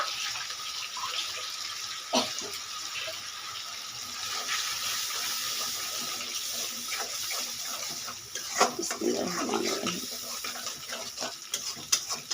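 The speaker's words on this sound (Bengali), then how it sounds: "পানি দিয়ে দেব।" Water splashes steadily into a pan of turmeric, chili, salt, coriander and cumin powders while cooking a radish and taki fish mash, a close continuous pour with a few clinks near the end.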